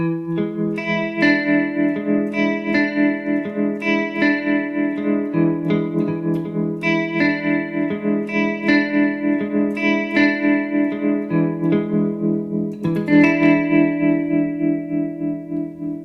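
Electric guitar chords through a Plethora effects pedal throb with a steady, rapid tremolo pulse, strummed phrases repeating over a sustained wavering tone.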